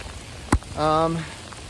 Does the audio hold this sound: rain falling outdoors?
yes